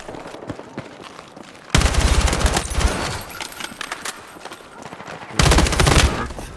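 Rifle fire from an M4A1 in the Battlefield 6 video game, with dense bursts of loud automatic shots in two heavy stretches among scattered distant gunfire and battle noise.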